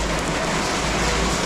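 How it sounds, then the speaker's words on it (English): Heavy rain pours on a narrow Macau street alley, a dense, even hiss close by and constant for the brief moment, without any voices. "it's raining a lot today"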